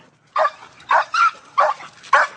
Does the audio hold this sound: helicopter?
no